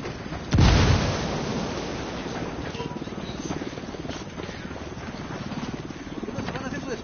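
A grenade blast in a video game, one loud boom near the start followed by a steady rumbling, noisy background of game sound.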